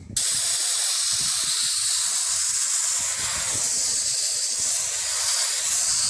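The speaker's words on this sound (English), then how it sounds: "we're going to use an air compressor and just blow all of the large debris off here" Compressed air blasts steadily at a filter to clear off large debris during an oil change on a 2003 Chevy Avalanche with a 5.3 Vortec, a loud continuous hiss lasting several seconds without pause.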